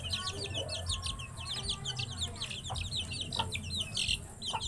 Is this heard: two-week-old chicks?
yes